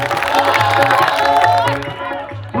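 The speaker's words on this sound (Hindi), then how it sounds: "आप लोग एक बार जोरदार तालियां बजाते हैं।" Audience at a live qawwali contest breaks into loud clapping mixed with cheers, whoops and shouting voices, a dense continuous roar that fills the hall before easing slightly at the end.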